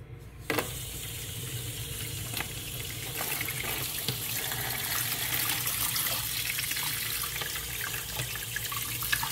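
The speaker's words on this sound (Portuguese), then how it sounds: "Já deixa a torneira aberta." Water runs steadily from an open tap over sago held in a small sieve in a kitchen sink, a continuous splashing rush with occasional clinks and knocks as the sieve is handled, no talking.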